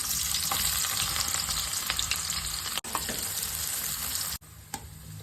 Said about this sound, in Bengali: কড়াই চাপিয়ে দিয়েছি বেরেস্তাটা বানিয়ে নেব